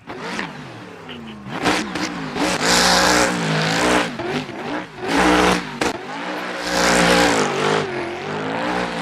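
V8 race car engines in a racing video game roar loud and close, revving hard in repeated surges with dips between, like gear changes, and keep running steadily throughout without any voices.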